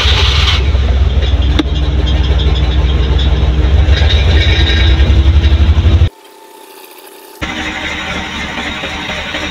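Suzuki Multicab engine with a misfire idling roughly and loud, its uneven running steady for about six seconds, then briefly quieter before picking back up.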